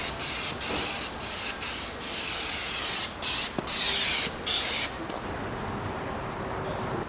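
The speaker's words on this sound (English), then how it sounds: "You just spray it as much as you want and wipe it with a rag." A run of short, sharp bursts of cleaner sprayed onto a car part hiss close by, repeated at uneven intervals and then trailing into a steady soft hiss, with no one talking.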